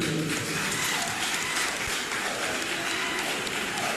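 A crowd at a gathering in a labour exchange hall claps steadily, a dense wash of applause filling the space without a break for several seconds.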